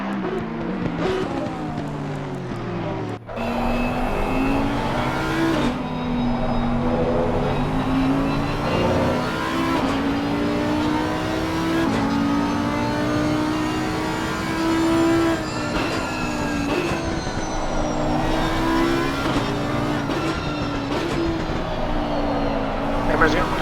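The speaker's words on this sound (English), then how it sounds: "These people enjoy the sound of these engines." Race car engines at a Germany round of an Assetto Corsa Competizione race, a loud continuous roar rising and falling in pitch through gear changes, with one brief dip early on, close up and sustained.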